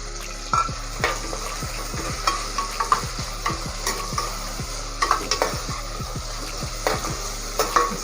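Onions sizzle quietly in oil while a utensil stirs and scrapes the pan with repeated light knocks and clinks, no voices.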